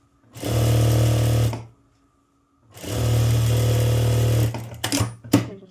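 An electric sewing machine stitching a blouse runs in two steady, loud whirring bursts of about a second and a half each, separated by a pause, followed by a few sharp clicks and handling knocks.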